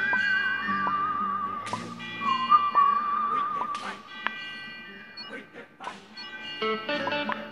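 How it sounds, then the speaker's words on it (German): A person whistles a wavering tune, thin and clear in short phrases, with other speech and clattering sounds breaking in between. "Scheiße, kann ich pfeifen"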